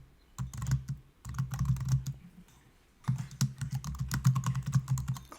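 Close, crisp clatter of typing on a computer keyboard in quick bursts of keystrokes, separated by two brief pauses.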